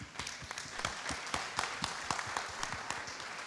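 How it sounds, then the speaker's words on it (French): A conference audience at the Rencontres Économiques d'Aix-en-Provence claps in a fairly sparse, steady stream of individual claps, moderately loud and heard alone without talk. "Je crois effectivement, cher Jean-Hervé, que ces applaudissements sont mérités."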